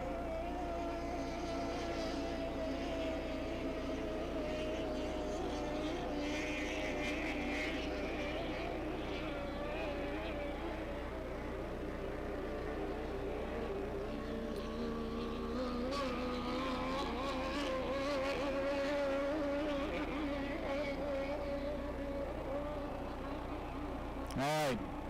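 Hydroplane race boat engines at full throttle roar steadily and loudly throughout, a sustained high-pitched drone with shifting pitch as the boats run at the Pateros Hydro Classic, with an announcer talking over it.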